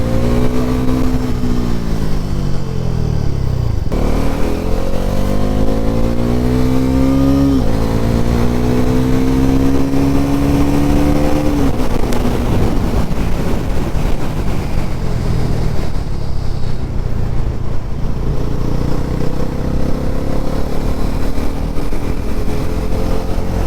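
A 2024 Bajaj NS400z motorcycle being ridden: its engine revs climb steadily, drop at each gear change, then climb again, with wind rushing over the microphone throughout.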